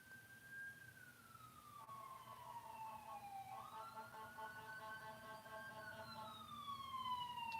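A distant wailing emergency siren sweeps slowly up and down in pitch, joined midway by a second overlapping tone, rising gradually louder over a low road rumble.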